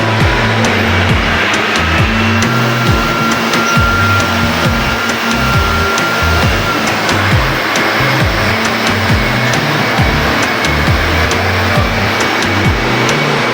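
A misting machine spraying treatment in a barangay runs with a loud, continuous motor whine and blowing roar, steady and close throughout, with no talk.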